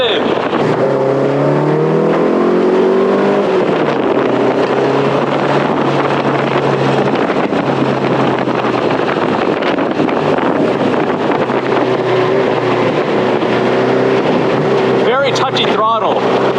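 A 1950s Porsche 550 Spyder, a light sports car of about 1,500 pounds, drones steadily from inside the open cockpit while driving, its revs rising and falling under heavy wind buffeting.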